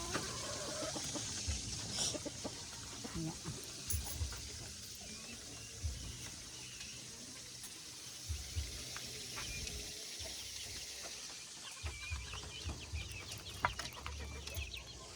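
Hens cluck on and off in the background over steady outdoor noise, with occasional soft knocks and rustles; no one speaks.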